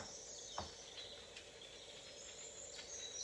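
Quiet outdoor ambience with faint, scattered bird chirps and a soft insect drone, distant and low in level.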